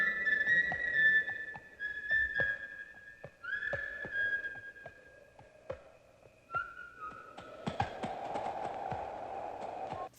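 A man whistling nervously in short wavering phrases while riding a horse through spooky woods, with hoof clip-clops and a horse's whinny under the tune, from Disney's animated Sleepy Hollow.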